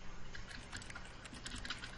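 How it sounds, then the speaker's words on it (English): Faint computer mouse clicks, some in quick double pairs, tick over a steady background hum while playing The Stanley Parable, with no voices. "it's double clicking because you can hear the clicking, the actual clicking"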